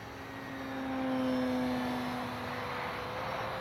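An RC airplane electric motor on a 3S battery at about three-quarter throttle, a steady high whine that swells slightly as the plane passes by, continuous over outdoor background noise.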